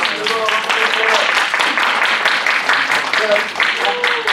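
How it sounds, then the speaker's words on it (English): A student leadership workshop group applauds, a loud, lively round of clapping with a few voices cheering and calling out over it, continuing for several seconds. "Guys, give her a round of applause."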